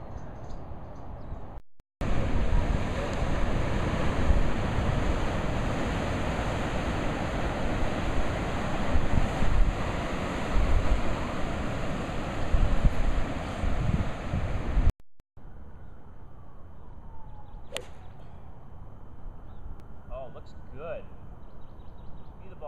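Ocean surf and wind at a California beach come through as a loud, continuous broadband roar, with a brief cut before a quieter stretch of distant wash at the end.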